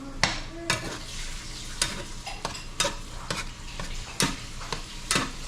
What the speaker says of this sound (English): You gotta mix it quick because the pan is still hot.